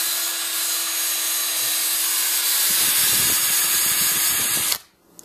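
A steady high-pitched power drill whine runs continuously, with grinding rasp as the bit bites into a headset, then cuts off abruptly near the end.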